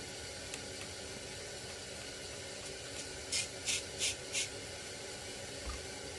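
Degreaser sprayed onto a 1971 Johnson Skee Horse 30 outboard engine, four short hissing spray bursts in quick succession, faint against a low background hum.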